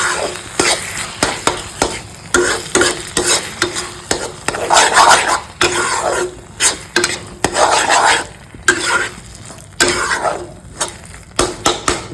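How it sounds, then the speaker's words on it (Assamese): Catfish pieces coated in turmeric and salt are stirred in a pan, producing loud, close, rhythmic scraping and rubbing strokes over a sizzling background that continue steadily for about twelve seconds. "এতিয়া মই ধুনীয়া কৰি এবাৰ লৰাই দিম"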